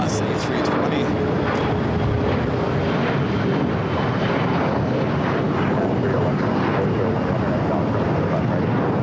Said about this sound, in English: Viva Aerobus A380.